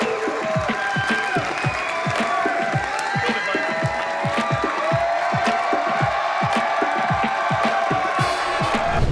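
A comedy club audience cheers and applauds to welcome Dane Cook to the stage, with dense sustained clapping and scattered whoops and shouts rising over it, close and loud throughout.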